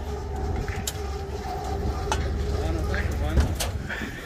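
A train passes beside a junkyard auction lot, its low continuous rumble and rolling wheel noise filling the background with a brief louder clank near the end, while people talk faintly over it.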